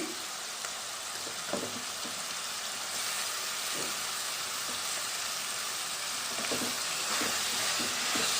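Tomatoes fry in a pan for a prawn masala gravy, giving a continuous loud sizzle with occasional faint scraping stirs scattered through it, and no talk.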